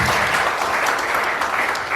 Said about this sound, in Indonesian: Berikan tepuk tangan buat Tuhan ya.